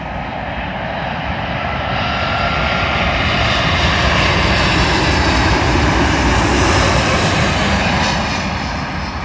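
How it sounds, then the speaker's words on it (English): A British Airways Airbus A350-1000 lands at London Heathrow on runway 27L, a loud, steady roar of jet engines that holds near and strong throughout with broad rushing noise and no talk. "Arriving in now is a British Airways A350-1000 from Rio de Janeiro in Brazil, terminating here at London Heathrow."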